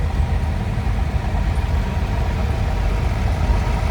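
A small Wheatland tractor idles in a summer show parade, its low engine rumble steady and continuous at close range with no pauses.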